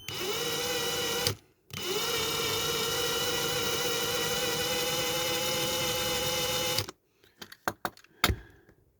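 A small power drill whines steadily while drilling into the base plate of a diecast model, running in two long loud bursts separated by a brief pause, then ending with scattered clicks and handling knocks.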